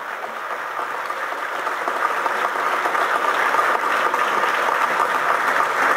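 An awards-ceremony audience claps in sustained, dense applause that swells slightly and holds steady throughout, heard from within the hall.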